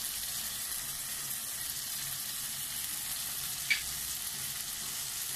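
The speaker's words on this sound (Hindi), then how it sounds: "अभी हम यहाँ मसाले की भुनाई करेंगे" Spices frying with tomatoes and green chillies for baingan bharta, a soft steady sizzle throughout with one faint clink, quiet and without talk.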